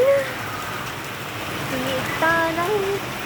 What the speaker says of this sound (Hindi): आज तो तेज बारिश आ गई है गाइस, फुल ऑन